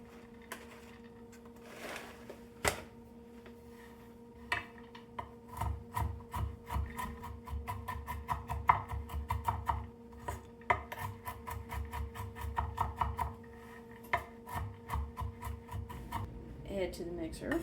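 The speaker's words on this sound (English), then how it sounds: "Right now I have some pecans. I'm going to chop up about 2 cups worth of these." About two cups of pecans are chopped on a board with rapid, uneven knocking and crunching strokes that come in close, busy bursts over a quiet background, with sharper isolated knocks near the start.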